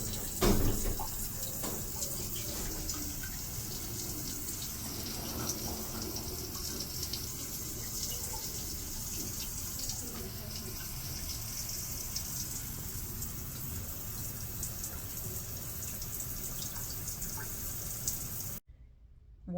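Water sprays steadily from a Japanese bidet toilet's cleaning nozzle, a continuous rushing hiss that runs close and fairly loud for most of the stretch, then cuts off abruptly near the end.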